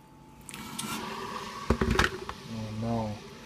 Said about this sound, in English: I'm gonna pour the tea now.